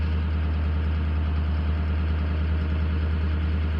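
A turbocharged car engine runs steadily on a cold start, a loud, constant low idle rumble with a fine rhythmic pulse and no voices.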